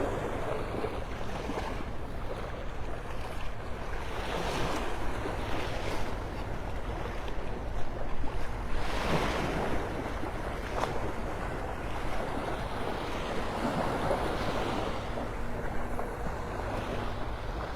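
Early-morning waves roll in at Vanderbilt Beach in North Naples, Florida. The surf washes continuously, swelling and receding in gentle surges over steady wind noise, with no voices.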